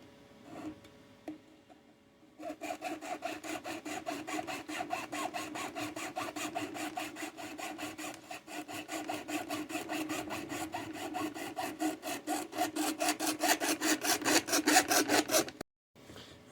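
A plastic bottle mouthpiece being sawn off by hand, close and steady: rapid, even strokes that run for about thirteen seconds, growing slightly louder toward the end before stopping abruptly.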